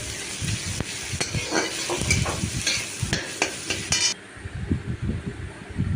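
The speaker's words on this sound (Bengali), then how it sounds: "পেঁয়াজটাকেও ভালো করে ভেজে নেব" Onion frying in a pan for a potato and soya chunk curry: a steady close sizzle with scrapes and knocks of stirring, which quiets slightly near the end.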